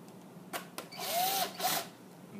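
A small electric screwdriver whirs in short, rising bursts, preceded by a couple of clicks, driving screws into an HP DV6 laptop screen assembly at close range.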